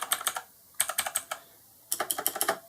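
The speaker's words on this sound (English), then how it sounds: "That's a mechanical keyboard." Typing on a loud mechanical keyboard, with three quick bursts of sharp, clacking keystrokes separated by short pauses, close and clear with no talking.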